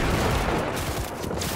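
Continuous loud gunfire in Cyberpunk 2077, a dense unbroken volley of shots filling a short burst without any talking.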